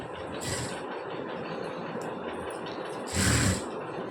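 A sewing machine stitches piping onto the star-shaped neckline of a blouse, running as a steady low mechanical whir at moderate distance, with a brief louder burst of motor noise near the end.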